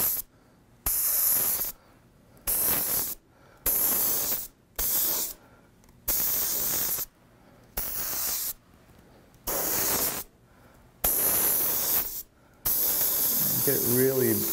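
An airbrush sprays candy paint onto a fire-design artwork in repeated loud hissing bursts about a second long, separated by short pauses, close up and heavy, with a low rumble near the end.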